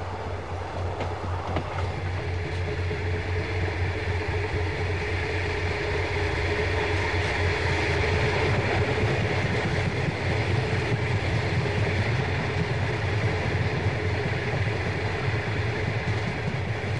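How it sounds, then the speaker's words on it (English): A Broken Hill train leaving the station rumbles steadily with a low continuous drone and faint rail clatter, moderately distant, with no voices. "it quietly defers to the larger train and leaves the Broken Hill station"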